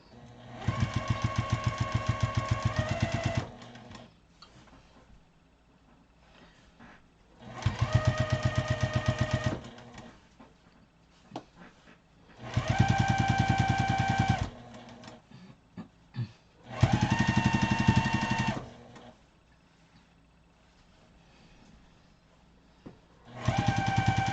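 Sewing machine stitching a quarter-inch seam on a fabric mat, running in four loud, close bursts of several seconds each with a rapid mechanical hum, separated by quiet pauses with faint handling noises.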